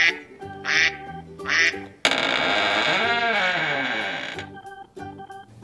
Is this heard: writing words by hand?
no